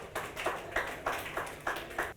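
Applause from a quiz competition audience: a steady run of about seven sharp, evenly spaced clap bursts, fairly close and clear, with no talking over them.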